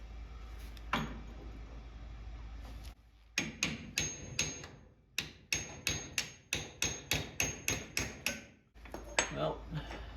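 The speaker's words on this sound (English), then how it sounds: "Grab my little hammer and tap that out of there." Sharp metallic hammer taps on a drift pin during Firebird rear end removal, about a dozen strikes spaced under a second apart, close and loud with a brief quiet gap before them.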